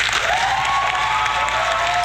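Applause sound effect played on a live podcast stream, a steady burst of many hands clapping with a faint cheering tone over it, continuous and moderately loud for about two seconds.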